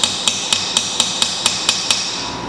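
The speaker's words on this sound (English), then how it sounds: "Notice I'm using a pretty light hammer." A light hammer taps a release bearing and carrier on a Triumph Spitfire gearbox: nine crisp, evenly spaced metallic taps at a steady pace, close and clear, with no talking.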